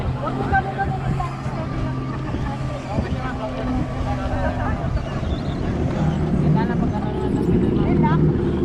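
A jet ski engine drones steadily on the water off Boracay, buffeted by wind noise, with voices talking faintly under the engine roar.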